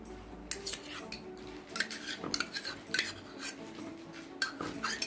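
Spoon scraping and clinking against a bowl while half a cup of mayonnaise is mixed with cream for a Russian fruit salad, with irregular close taps and scrapes and no talking.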